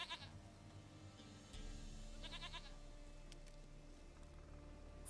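A goat in The Witcher 3: Wild Hunt gives a couple of short, wavering bleats over a low game ambience and music bed, fairly quiet and without talk.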